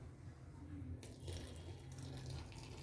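Water running from a tap into a basin, a steady close splashing wash that starts abruptly partway through and continues loudly.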